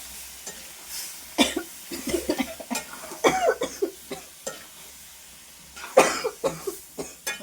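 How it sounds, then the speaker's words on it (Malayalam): Several bursts of harsh coughing from chili powder roasting, in clusters over a soft background sizzle of something frying in a pan. "നിങ്ങൾ ചുമ വരണം ശരിക്കും മുളകും പൊടി മൂത്തൂന്നിന്റെ അടയാളാണ്"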